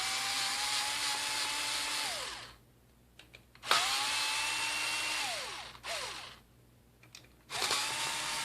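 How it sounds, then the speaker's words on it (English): Power screwdriver undoing the four screws that hold a BKMOTO H1 bi-xenon headlight projector together, three loud whirring bursts with falling pitch at the end of each, separated by short quiet gaps. "Just undo the screws and the projector comes apart."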